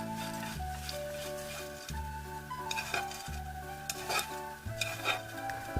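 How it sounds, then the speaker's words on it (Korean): Anchovies sizzle softly in oil in a pan over medium heat while a utensil scrapes and stirs them in repeated strokes, with light metallic clinks. "중불의 달군 팬에 분량의 식용유를 두르고 멸치를 넣어 바삭바삭해질 때까지 서서히 볶아줍니다."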